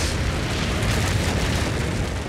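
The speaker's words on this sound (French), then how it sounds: "L'hyperéruption projette de la roche en fusion vers le ciel et son explosion libère une importante quantité" A dense, roaring blast of broadband noise rumbles steadily without pause, deep and overwhelming like a massive volcanic explosion.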